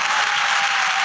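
Audience at the Lux Style Awards ceremony gives a short burst of dense, even applause, loud and continuous, with no voices over it.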